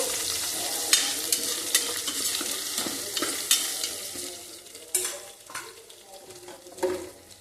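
Potatoes sizzling in a pan while being stirred, a steady close frying hiss broken by repeated scraping and clinks of a metal spoon against the pan, with no voices.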